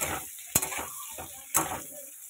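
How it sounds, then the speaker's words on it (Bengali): Potatoes fry in oil with turmeric, a steady close sizzle broken by two sharp scraping stirs of a spatula against the pan. "এটাকে ভালো মতো এবার ভেজে নেব হলুদ দিয়ে"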